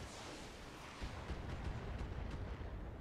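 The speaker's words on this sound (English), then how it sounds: "I can see the pixelated explosion actually." Artillery explosion in the mech combat game Battletech, a dense, sustained roaring rumble that swells slightly after the first second and holds steady.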